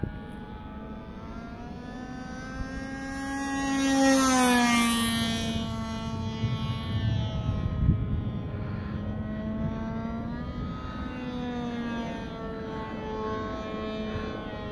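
A small gas engine on an RC model airplane drones with a high, buzzing whine, its pitch rising and falling as it passes overhead and circles, continuous throughout.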